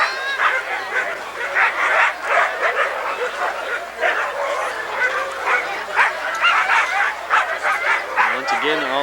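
A chorus of excited sled dogs at a 1993 sled dog race, barking and yipping continuously in a dense, near cluster, with voices talking underneath at times.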